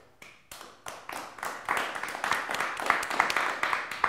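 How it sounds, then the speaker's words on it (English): A small audience at a comedy show starts clapping with a few sharp, separate claps that quickly build into steady, moderately close applause. "So give him a round of applause."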